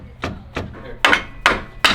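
A small hammer taps on the transmission mount of a Ferrari 360 during a DIY replacement, giving five sharp metallic knocks: two lighter ones, then three harder, ringing strikes.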